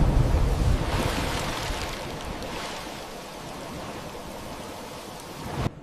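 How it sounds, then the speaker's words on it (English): Storm at sea with heavy rain, wind and waves around a small boat: a dense, loud rushing wash of water and wind, strongest at the start, then steady before cutting off abruptly. "Rainwater filled the boat while strong winds pushed against them."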